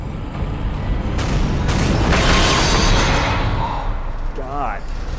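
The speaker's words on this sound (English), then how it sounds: "Massive explosion. Hull breach detected." Inside the Dead Space game, a massive explosion rocks a spaceship: a dense, rumbling roar swells and rolls on for several seconds, with mechanical groans and a warbling tone surfacing as it fades.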